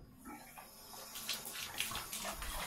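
Water pours from a household tap in a steady, close splashing rush with some faint clinks and movement around it, and no talking.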